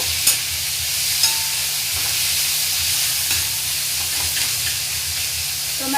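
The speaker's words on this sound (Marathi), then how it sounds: "आता आपण टोमॅटो घालूया व्यवस्थित परतून घ्यायचा आहे टोमॅटो" Tomatoes sauté in a hot pan as they are cooked down for a kolim (tiny dried shrimp) dish, giving a steady close sizzle and hiss with a low rumble beneath and occasional stirring taps.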